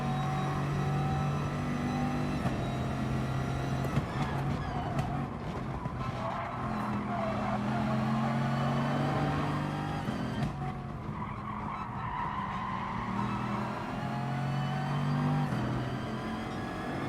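A Bugatti Veyron race car in the GT Sport video game drones loudly under acceleration with rising and falling engine tones, mixed with tire skids and the engines of other cars nearby.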